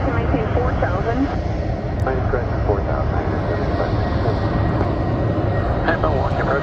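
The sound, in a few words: American Airlines MD-88 jet airliner at Milwaukee airport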